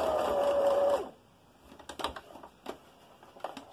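A sewing machine top stitching a fabric face covering runs in a steady whirring burst for about a second, then stops, followed by faint scattered clicks and handling noises.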